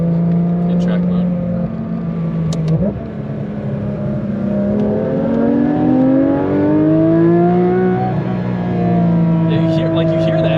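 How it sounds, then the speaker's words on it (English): Porsche 992 GT3 RS flat-six engine and exhaust in track mode, heard from inside the car, rising and falling through revs with a whining, race-car-like tone while people talk over it. "Yeah, you hear the engine noise a lot more."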